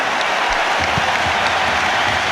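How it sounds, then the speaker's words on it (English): Football stadium crowd at Arsenal versus Dinamo Zagreb, a 2006-07 Champions League qualifier, applauding as Thierry Henry comes on as a substitute; a broad, steady roar of clapping fills the brief stretch. "And the crowd reaction is approving"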